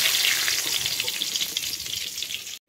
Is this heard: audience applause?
no